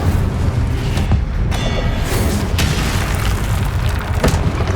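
Incendio fire spell cast repeatedly in Hogwarts Legacy, heard as loud booming, whooshing bursts over a constant dense rumble of game combat, with sharp flare-ups spaced a second or so apart.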